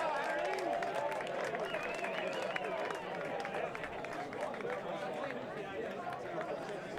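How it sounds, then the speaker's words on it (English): A rugby crowd at the Noosa versus University semi-final keeps up a steady roar of cheering, clapping and chatter, broad and continuous, with voices mixed into the noise. "The crowd erupts."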